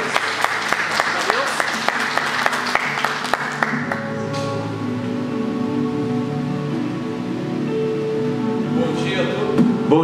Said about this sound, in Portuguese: Vamos receber o servo de Deus com palmas para o Senhor Jesus?